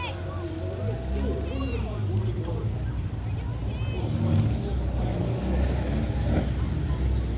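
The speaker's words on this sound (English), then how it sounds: "smoking those tiny little slick tyres off the line here. Tyre smoke left in his wake in that historic Mini" Historic Mini on a tarmac rally stage launching off the line, engine revving and slick tyres spinning, heard at a distance beneath continuous commentary.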